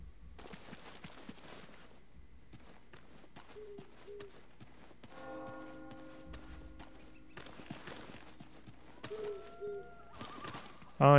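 Birds coo and call intermittently across a sparse, quiet battlefield ambience in Ghost Recon Future Soldier multiplayer, with scattered faint clicks and a louder burst at the end.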